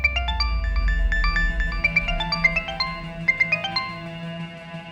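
A melodic electronic ringtone plays a quick repeating tune of bright tones, loud and close, with no voices.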